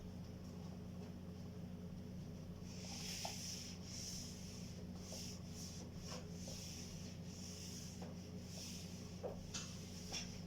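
An eraser rubs across a board after an economics lesson on aggregate production, with repeated scrubbing strokes starting a few seconds in over a steady low room hum, no talking.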